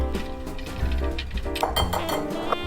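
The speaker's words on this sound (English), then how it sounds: "you're going to whisk them all together and then set them aside" A whisk clinks against a bowl, mixing cardamom, baking soda, salt and baking powder together in a quick, close run of light metallic taps and scrapes. No one speaks.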